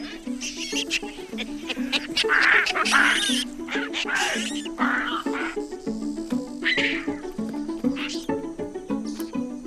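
A playful Chakma baboon troop on the Namibian savanna raises a noisy chorus of squealing, honking and grunting calls, with loud bursts over a steady tonal background.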